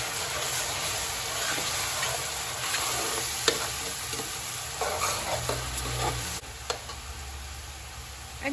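Garlic, onion, pepper and thyme fry in a pot for a Guyanese-style armored catfish curry, a loud continuous sizzle broken by spoon scrapes and knocks against the pot, with no voices.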